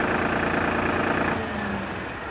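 A steady tractor engine idles with a low rumble, then cuts off partway through, leaving a fading mechanical hum.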